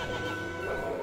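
A horse neighs in the Ni no Kuni: Wrath of the White Witch game, a brief, loud, steady cry over game sound with no talk.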